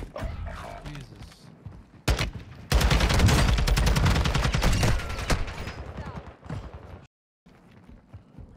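Rapid automatic gunfire in the video game Call of Duty: Warzone on Ashika Island, a dense burst of shots lasting about three seconds after a single sharp crack, with quieter game sounds before and after.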